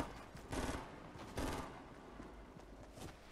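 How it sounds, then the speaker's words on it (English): Fortnite gunfire crackles in a faint game mix, with two sharp bursts of rapid shots close together followed by a few scattered quieter pops. "He just shot at me"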